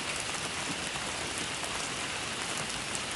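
Rain falls steadily in a dense, even hiss of drops hitting surfaces, unbroken and fairly soft throughout, with no voices.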